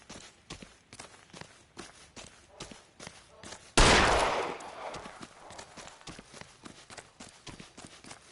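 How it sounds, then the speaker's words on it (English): A single loud gunshot in the video game L.A. Noire, sharp and close, decaying over about a second, set against a steady pattern of footsteps before and after. "I did not mean to shoot him"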